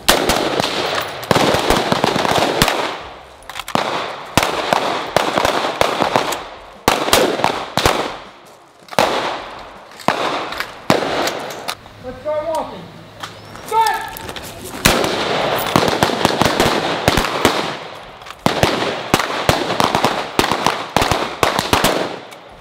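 Repeated sharp gunshots from an AR-15 rifle and a sidearm on an outdoor shooting range, loud single and rapid-strings of shots spread through the whole stretch with short pauses, brief talk in a quieter middle gap.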